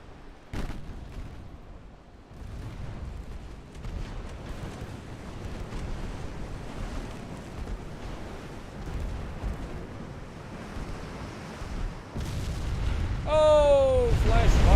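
A warship blowing up in a flash fire during a naval battle in Ultimate Admiral Dreadnoughts, a long low rumbling roar of explosion and fire that swells toward the end, with someone talking over it near the close.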